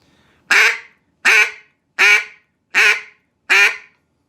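A duck call blown by a skilled caller gives five loud, evenly spaced quacks close up, each sharp and nasal with a quick fade, and no voices.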